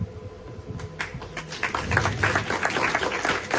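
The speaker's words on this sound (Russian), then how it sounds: "Это вы мне аплодируете или Банку России?" Audience applause at a talk on VAT and the Bank of Russia, a dense steady patter of many hands clapping throughout, fairly loud and continuous without speech.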